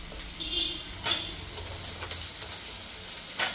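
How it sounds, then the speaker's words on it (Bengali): Pumpkin pieces frying in a pan with turmeric and salt, a steady close sizzle broken by a few sharp scrapes and clinks as a spoon stirs through the mix; nobody talks. "কুমড়োগুলোকে এই হলুদ লবণ দিয়ে ভেজে নেবো"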